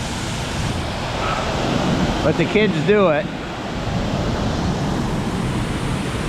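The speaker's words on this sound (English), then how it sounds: "is the Sturgeon River Gorge Falls, the main falls" Sturgeon River Gorge Falls pours into a pool below, a loud, broad, constant roar of falling water, with a voice speaking briefly over it midway.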